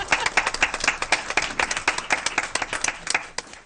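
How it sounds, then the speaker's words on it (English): Clapping fills a school board meeting, with a small group producing distinct, closely spaced claps in a brisk, uneven rhythm that tapers slightly at the end. "we're giving a real clap"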